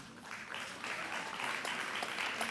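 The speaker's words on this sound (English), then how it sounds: "Keep the applause going same way, we thank them." An audience at a public sector debate competition applauds, the clapping swelling after a quieter start into a steady, moderately faint crowd patter.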